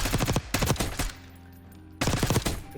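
Automatic rifle fire in the Black Ops 6 firing range: two rapid bursts of loud close shots separated by a quieter pause with faint mechanical hum, no talking.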